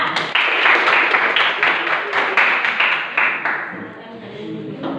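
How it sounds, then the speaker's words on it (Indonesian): Students in a classroom give group 4 a round of applause, a dense burst of many hands clapping close by that thins and fades toward the end. "kita beri tepuk tangan untuk kelompok 4."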